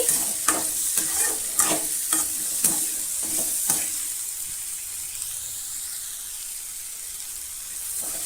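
Tomato and radish sauté in a pan for a spicy radish chutney, with several sharp stirring scrapes at the start and a steady frying sizzle and hiss underneath that carries on alone afterward.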